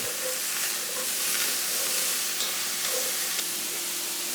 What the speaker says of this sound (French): On mélange bien, que les oignons aillent bien caraméliser au fond.